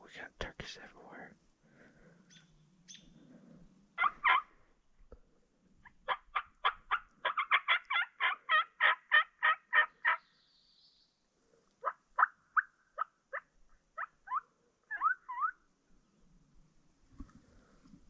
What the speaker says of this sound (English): I don't know how many birds are gobbling up this meadow